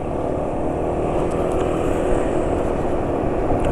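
A diesel SUV running on 15W40 diesel engine oil driving at speed, giving a steady, loud broadband road and engine roar that holds constant throughout, no talk.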